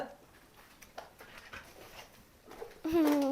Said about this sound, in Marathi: रुबीचं पिल्लू